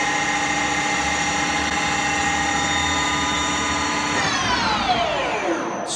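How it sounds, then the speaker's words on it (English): A metal lathe runs steadily while turning a small diameter, a constant machine whine with layered tonal harmonics that drops sharply in pitch near the end as the spindle slows. "Set the machine going. Turn a small diameter."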